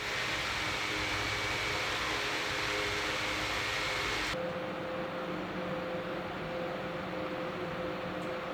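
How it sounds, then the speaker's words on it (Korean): Steady broadband whirring hum of a three-headed electric fan running, close and continuous, with a slight drop in level partway through as the setting changes. "일반적인 저렴이 선풍기들보다는 조용한 편이지만"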